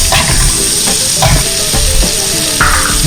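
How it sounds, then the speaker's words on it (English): Onions sizzling loudly as they go into a hot pan, a dense steady crackle and hiss with occasional scraping stirs, close and alone without talk. "let's put the onions in"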